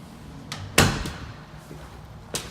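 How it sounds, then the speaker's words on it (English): A small cat door in a house swings with a sharp knock, followed by a few lighter taps and clacks, close and moderately loud with no talking. "Little cat door."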